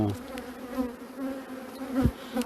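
Honeybees buzz around an open beehive during a spring hive inspection, with a steady close hum and individual bees droning past near the microphone, with a louder buzz passing briefly near the end.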